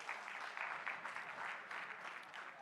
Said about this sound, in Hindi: एक बार अपने लिए बजा दीजिए तालियां